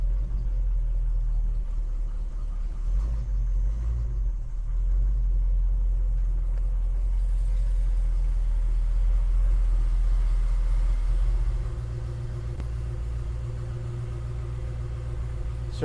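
A 1967 Chevrolet Chevelle convertible SS clone idles in a showroom with a steady, deep rumble close by, holding constant and easing slightly quieter near the end.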